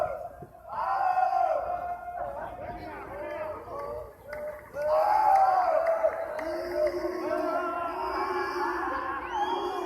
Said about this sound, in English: George fans booing every move by the Fasil side